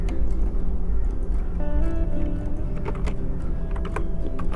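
Keys clatter on a computer keyboard as an AutoCAD trim command is typed in, a steady run of close, crisp taps over a low, constant background hum.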